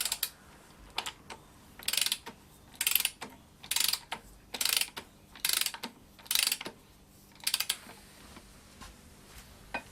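A ratchet clicks in repeated bursts, about seven strokes, while a Mini engine's crankshaft pulley bolt is tightened during a rebuild, the crisp pawl ticks close and clear over a quiet workshop background.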